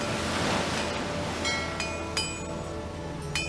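Ocean waves in the Nancy Drew game Danger on Deception Island, a steady loud wash of surf filling the whole clip, with a few faint clinks near the end.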